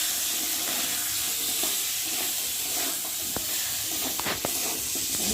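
Cumin paste, ginger and tomato sizzle and fry steadily in a pan for potol korma, with occasional stirring scrapes and hissing steam, close and continuous with no talking.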